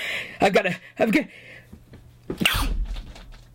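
A sudden loud sneeze bursts out after a couple of short breathy inhales, close to the listener, followed by a brief sniffly tail.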